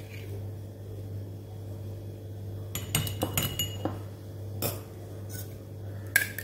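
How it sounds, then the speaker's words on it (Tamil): Almond gum being spooned into a glass tumbler while making rose milk, giving a handful of light glassy clinks and spoon taps that cluster in the second half over a steady low hum. "இப்போ நம்ம இந்த பாதாம் பிசினை வந்து நம்ம எடுத்து இப்படி டம்ளரில் போட்டுடலாம்"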